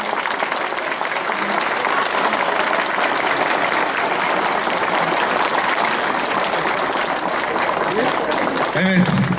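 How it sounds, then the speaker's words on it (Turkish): Steady, dense applause from an audience at a handover ceremony in Filyos, Turkey, sustained for about nine seconds at a loud, even level before tapering at the end. "Bir alkış alalım."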